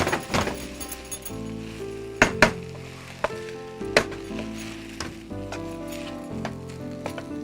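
Chicken fried rice is stirred and tossed in a hot pan, a steady sizzle broken by several sharp clinks and scrapes of a utensil against the metal.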